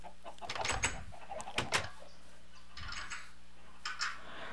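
Minecraft chickens clucking on a farm in the video game, several short clucks spread across the stretch with a couple of stronger bursts early on, fairly close, over a faint steady background tone.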